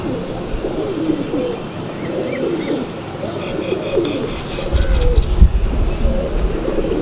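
A male Teddy pigeon coos close by in low, rolling phrases repeated over several seconds, with faint chirps from other birds and a low rumble rising toward the end.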